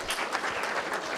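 Audience applause at the close of an Engineers Day 2019 session, a dense, steady wash of many hands clapping together with no break, filling the room at an even level throughout.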